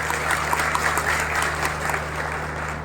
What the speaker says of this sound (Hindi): एक ताली बजाओ।